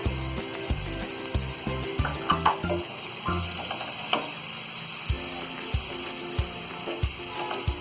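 Potatoes and peas with red chili powder and salt stirred together in a frying pan for a dry aloo matar sabji: steady sizzling under repeated scraping and clattering of a spoon against the pan, close and moderately loud.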